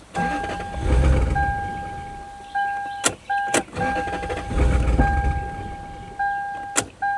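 An abandoned Lexus LS400 cranks repeatedly, its starter churning in two long rhythmic bursts with sharp clicks between them and a steady warning chime sounding throughout, close and loud.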